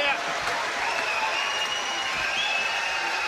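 A boxing crowd at the end of the Tyson Fury versus Dereck Chisora heavyweight fight roars and applauds in a dense, continuous wash of cheering, while a commentator talks over the noise.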